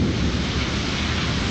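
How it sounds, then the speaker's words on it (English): Heavy rain pours steadily during a lightning-filled thunderstorm, a dense, loud, unbroken hiss of drops pounding the ground with a low rumble beneath, and no voices. "It's raining hard."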